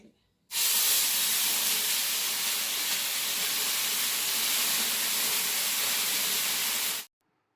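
Idli batter meeting a hot oiled pan for uttapam, a sudden loud hiss that starts abruptly, holds steady for several seconds, then cuts off sharply.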